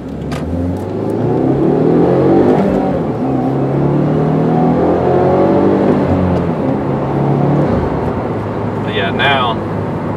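A 2015 Subaru WRX with a six-speed manual drives along quiet back roads, its engine droning steadily as it pulls and accelerates, with continuous road and tyre rumble and someone talking throughout over the cabin noise.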